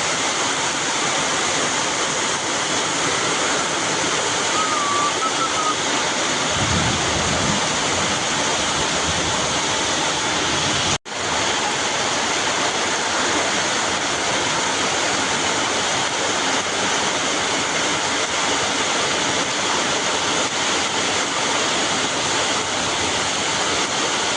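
Sudden heavy rain pours in a Konkan village with water running everywhere, a dense, constant rushing roar that stays loud and unbroken, with no talk.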